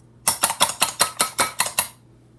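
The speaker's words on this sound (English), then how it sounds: "And you whisk the eggs. Until it's light and fluffy." Eggs are whisked in a bowl, about nine quick, even metallic clicks and scrapes close by, stopping abruptly with no talk.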